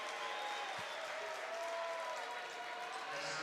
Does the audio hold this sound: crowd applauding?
yes